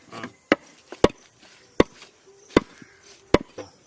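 Sharp, separate knife strikes on a cutting board, about seven of them, spaced unevenly while vegetables are chopped nearby.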